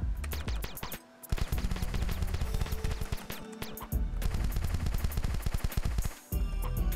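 Rapid bursts of gunfire from the video game The Desolate Hope as blocks are shot at, a dense, loud stream of shots with brief gaps between volleys and no talking.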